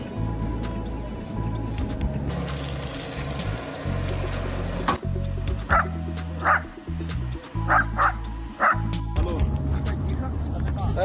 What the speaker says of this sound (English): a service dog called Patron